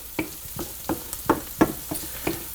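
Onions sauteing in a pan turned down to low heat for homemade White Castle-style slider burgers, with a soft sizzle broken by rhythmic scraping and stirring strokes about every third of a second.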